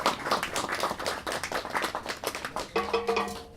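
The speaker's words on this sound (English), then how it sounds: "Another round of applause for the cast." Audience clapping for the cast after a stage reading, a dense, steady patter of many hands that carries on throughout, with a faint tonal hum joining near the end.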